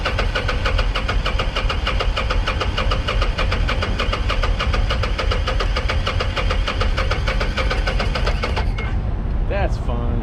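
A Kawasaki Vulcan 800 Classic VN800B motorcycle, left sitting since 2005, runs with a loud, steady, close engine drone and rapid firing pulses for most of the stretch, then cuts out near the end, leaving brief faint noises.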